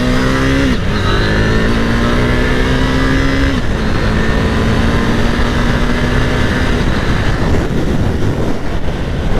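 A KTM 890 Duke motorcycle engine revs loud and close, its pitch climbing then dropping abruptly at each speed shift, repeated several times in steady sustained drive with no talk.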